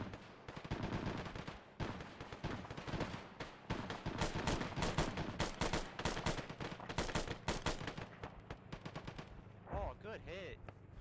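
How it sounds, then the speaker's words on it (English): A squad opens up with sustained rifle and machine-gun fire in an Arma session, dense overlapping bursts rattling on for several seconds at steady volume, with voices on the radio chatter now and then. "Want everyone to start shooting since it's already pissed?"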